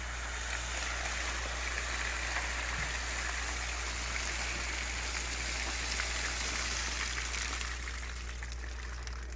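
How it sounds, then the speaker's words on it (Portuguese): A strong water jet spraying an orchid plant, a steady, loud, hissing rush of water with no breaks. "irrigação com jato forte"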